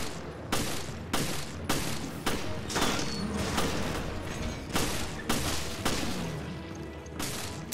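Gunshots in Resident Evil Revelations, a steady series of about a dozen sharp, evenly spaced shots with short booming tails, moderately loud and close, with no talk.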